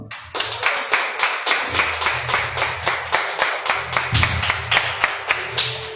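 Church congregation clapping in rhythm for the Lord, a steady, close beat of about three to four claps per second running throughout, with low voices or music underneath.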